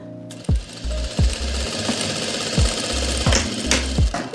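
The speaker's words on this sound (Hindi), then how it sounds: "ये आधा इंच की सिलाई लगा रहा हूँ मैं।" A sewing machine runs a half-inch seam on palazzo pants, its close, rapid mechanical chatter pulsing in uneven stop-start runs throughout.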